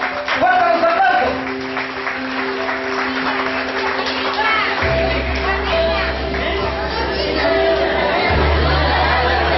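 At a children's school graduation ceremony, a crowd applauds and chatters for a graduate. A dense wash of clapping and voices runs throughout, with a low hum from a sound system underneath.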